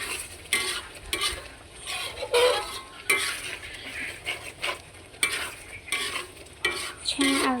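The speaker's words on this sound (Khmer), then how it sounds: "ឆាឲ្យវាដាច់ទឹកឲ្យបាត់ក្លិនខ្ទឹមសដែលនៅស្រស់ចឹង" Chili paste with fresh garlic and salt being stir-fried in a pan for a Malaysian-style beef lung sambal, a steady close sizzle broken by repeated scraping strokes of the spatula.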